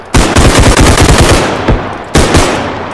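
Sustained automatic machine-gun spray in the realistic shooter game Bodycam, loud and close, with a long rapid burst, a short break, then a second burst near the end; no talking.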